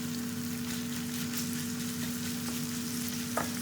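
Lean minced meat frying in a little olive oil in a pan gives a faint, steady sizzle with a low background hum and a single brief clink near the end.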